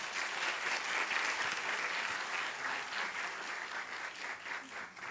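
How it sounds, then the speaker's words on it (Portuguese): A forum audience at a school-violence prevention event applauds a speaker, with dense sustained clapping from many hands that stays fairly even and slowly thins toward the end, moderately distant and without talking over it. "Uma salva de palmas"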